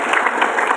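Brief burst of crowd clapping at a school Quran completion ceremony, a dense patter of many hands close by, lasting under a second.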